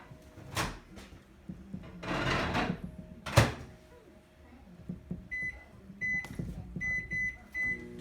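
A plastic stack cooker with its lid on is set into a microwave: a few thumps and a door closing, then the beeps of buttons being pressed and the oven starting up, close by.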